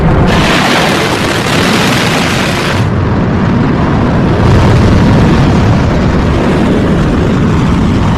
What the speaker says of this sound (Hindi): ईरान ने बैलिस्टिक मिसाइल दाग दी है